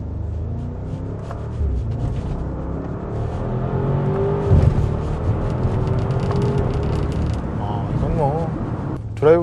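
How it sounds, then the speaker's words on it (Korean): A Bentley Bentayga V8 twin-turbo SUV accelerates hard in sport mode, a steady, rising engine roar from inside the cabin while someone talks over it. "드라이브 모드를 스포트로 했음에도 불구하고 앞에가 들릴 정도로 지금 강력하게 나가거든요"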